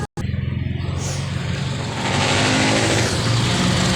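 A Toyota 2E 12-valve small-body engine with a low idle, running steady and close. A continuous throbbing drone grows slightly louder and fuller about halfway through.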